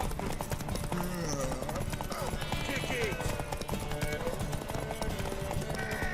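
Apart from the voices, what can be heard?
horse hooves galloping in The Witcher 3 video game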